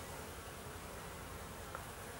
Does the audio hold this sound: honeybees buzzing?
yes